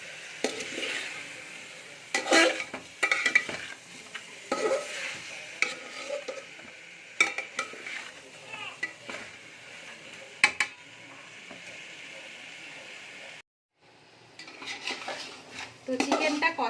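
Chicken and spices stir-fried in a pan for biryani, with repeated scraping clinks of a metal spoon against the cookware over a steady low sizzle, in irregular bursts with a short pause near the end.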